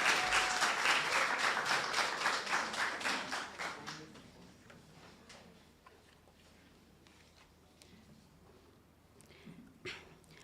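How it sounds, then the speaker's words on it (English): A school audience at an inter-secondary debating competition claps for a speaker, a lively burst of rhythmic applause that fades after a few seconds into quiet room noise with scattered taps. "Clap for Curtis, please."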